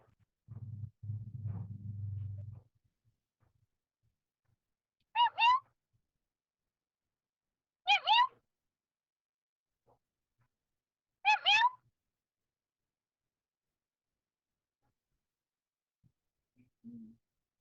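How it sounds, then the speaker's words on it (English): A kitten hidden under a house gives three thin, high meows, evenly spaced a few seconds apart and faint in otherwise near silence, after a brief low rustle at the start. "I thought I heard little tiny meows."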